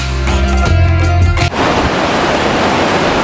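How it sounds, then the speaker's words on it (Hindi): The Alaknanda River rushes past Badrinath, a loud, dense, continuous roar of turbulent water that takes over after a brief stretch of tonal music at the start. "ये है अलकनंदा नदी बहती हुई बद्रीनाथ धाम से"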